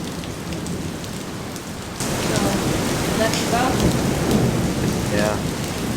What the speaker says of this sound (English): With nightfall came the intense rainfalls. And shortly after that the thunder started.